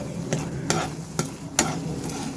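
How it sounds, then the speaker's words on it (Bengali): A spoon stirs gujiya filling of milk powder and cardamom as it dries in a pan on the stove, with a few distinct scraping strokes over a soft, steady sizzle and no talking. "এটাকে ভালো করে শুকিয়ে শুকিয়ে নেড়ে নেব"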